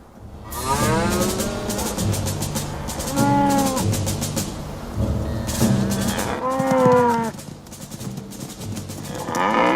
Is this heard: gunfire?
no